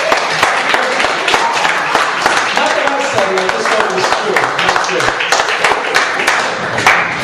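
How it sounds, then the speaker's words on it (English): Studio audience applause on a talk show, dense steady clapping throughout, fairly loud with scattered sharper claps. "So I'd like a round of applause for that statement."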